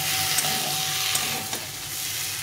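Spiced taro curry being fried and stirred in a pan, a steady soft sizzle with faint scraping stirs and a few small pops, close and continuous with no talking.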